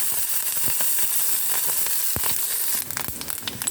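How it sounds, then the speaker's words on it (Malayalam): Rice grains splutter in hot oil while a tempering for jackfruit seed and drumstick thoran is made, giving a close, steady sizzle with scattered sharp pops that grow busier toward the end. "അരിയെല്ലാം പൊട്ടി വന്നിട്ടുണ്ട്."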